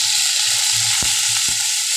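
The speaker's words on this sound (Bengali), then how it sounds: "এবার আমি এর মধ্যে আদা আর রসুন পেস্ট করে নিয়েছি, এটা আধা চামচ মতো, সেটা দিয়ে দিব এবং এই জিনিসটাকে ভালো করে একটু ভাজা হতে দিব।" Ginger and garlic paste frying in a hot pan gives a steady, close sizzle, with two short scraping stir strokes near the middle.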